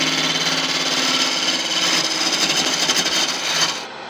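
A woodturning gouge makes a pull cut into a wooden bowl spinning on a lathe, giving a steady, close, raspy shearing hiss that fades out at the very end.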